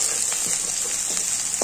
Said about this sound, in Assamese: আৰু এইখিনি গোটেইখিনি আকৌ ভাজি ল'ম ধুনীয়াকৈ চাৰিওফালে